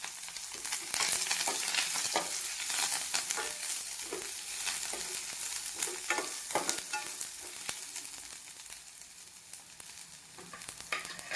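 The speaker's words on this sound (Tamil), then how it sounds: "இந்த வெங்காயம் வதங்கி வரட்டும்" Chopped onion sautéing in oil with mustard seeds and curry leaves, a steady close sizzle with light crackles and occasional stirring scrapes throughout, no talk.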